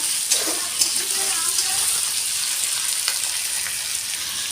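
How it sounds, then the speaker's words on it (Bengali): Diced potatoes frying in a hot kadai with five-spice seeds, onion and green chillies give a steady, close oil sizzle with light crackles and occasional spoon scrapes throughout. "আলুটা ভেজে নেব"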